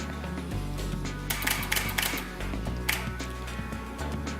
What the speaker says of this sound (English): if I press the shutter button and hold it down, you're going to hear it take 3 consecutive photos.